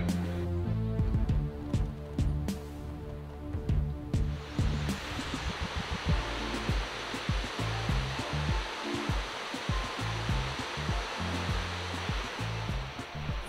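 Brazil's Caracol waterfall plunges 131 metres over a basalt edge: a steady, dense roar of falling water fills the second part, following a few seconds of music at the start.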